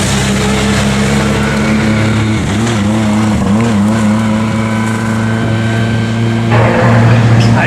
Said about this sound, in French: Elle démarre la voiture de Tolbert